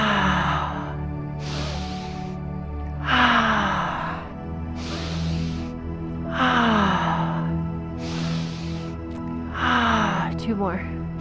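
Slow, deep breaths during a grief and loss yoga session: several long, airy inhales and exhales in a steady rhythm, close to the microphone, over a soft, sustained background hum.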